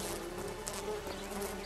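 Honeybees buzz steadily around a water trough fitted with floats to keep them from drowning, at an apiary in the Pskom area; the dense, close swarm hum continues without pause and with no talk.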